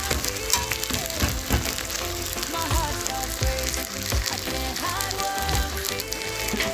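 A courgette and potato omelette fries in a pan on its second side, giving off a steady, close sizzle and crackle with faint clatter and no talking.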